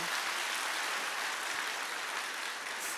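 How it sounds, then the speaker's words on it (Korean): Audience applause during a lecture in a hall, an even, moderately loud rush of many people clapping, sustained for a few seconds without talk. "우리 박수 한번 쳐주세요"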